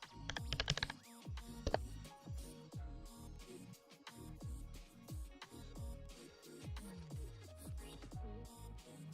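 Steady clatter of typing on a computer keyboard while writing Fortran code, close and fairly quiet, with irregular rapid key presses throughout and no talking.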